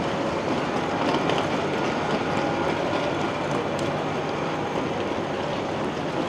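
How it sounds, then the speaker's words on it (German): Frecciarossa 1000 high-speed train on the Naples to Venice run, a steady broadband rumble of the moving carriages with faint rail clatter, loud and continuous throughout with no talk. "Verabschieden wir uns von unserem Zug."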